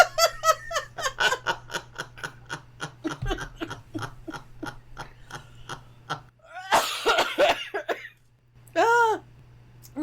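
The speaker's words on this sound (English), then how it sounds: "Residual COVID cough." A person with a lingering cough after COVID coughs and clears the throat in a rapid run of short bursts, followed by laughter and a few vocal sounds.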